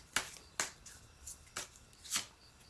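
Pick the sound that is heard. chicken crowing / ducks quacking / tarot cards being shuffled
tarot cards being shuffled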